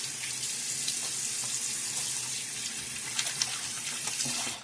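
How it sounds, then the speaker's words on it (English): Water from a bathroom faucet gushes and splashes steadily during a shave, a close, continuous running-tap hiss with a few brief louder splashes before it cuts off. "quick little splash"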